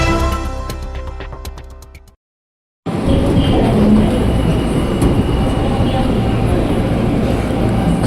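KRL commuter train at Manggarai station in Jakarta, loud and continuous rolling rumble with a brief silent break after the opening seconds, then steady dense rail noise throughout.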